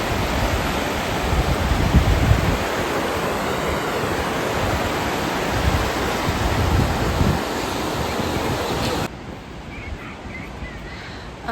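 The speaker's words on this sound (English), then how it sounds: "but just wanted to show you the river." A river rushes steadily nearby, a loud broadband wash of flowing water that fills the first nine seconds, then drops abruptly to a softer, more distant murmur.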